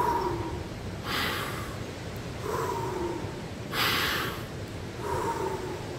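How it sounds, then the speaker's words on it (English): Three deep, audible breaths, each a soft rushing inhale or exhale, come at a slow, regular pace, close and alone. "Take a deep breath right now"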